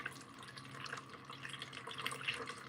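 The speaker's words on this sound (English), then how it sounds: "So we're going to add water and add my nutrients." Water trickles and drips faintly while being added to a hydroponics setup, a soft continuous splashing with scattered drops and no talk.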